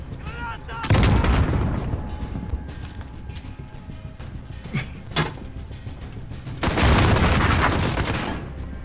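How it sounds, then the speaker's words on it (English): A grenade explodes in Call of Duty: Modern Warfare (2019) with a loud, close boom that rolls out into a long rumble. Sharper gunfire cracks follow, then a second heavy blast near the end. "Grenade! Grenade!"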